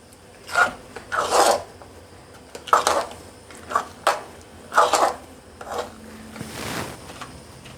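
Pongal with ghee-fried cashews is stirred in a pot, a spoon scraping the bottom in repeated rasping strokes at a steady, unhurried rhythm, close up.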